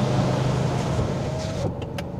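A power window closes on a 2025 Jaecoo J7 PHEV, a steady electric motor whine from inside the car that ends with a soft thud as the glass seals, leaving a quieter cabin.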